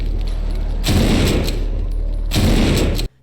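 Gunfire in the zombie shooter No More Room in Hell, two loud, dense bursts of shots close up over a heavy low rumble, ending abruptly.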